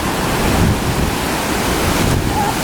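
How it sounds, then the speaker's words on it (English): Ocean waves and strong wind on a coast during a typhoon, a dense, constant roar of surf and gusting air buffeting the microphone, loud and unbroken, with no talking. "Look at the waves!"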